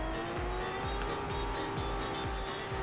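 A car drifting in a newly updated game mode of a video game, with a steady engine drone and a repeating low rhythmic thump under a sustained tire-squeal tone, heard alone without talk.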